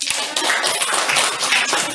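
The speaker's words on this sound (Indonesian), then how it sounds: "Tepuk tangannya untuk Nada." A classroom of students applauds a classmate after her lesson summary, a dense burst of many hands clapping close by that runs steadily for about two seconds.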